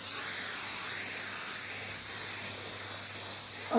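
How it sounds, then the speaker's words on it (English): 505 spray adhesive hisses steadily from an aerosol can in a ventilated workroom, a continuous close spray lasting several seconds under the low drone of an air extractor. "lightly spray that on."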